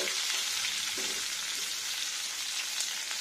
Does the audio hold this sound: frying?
yes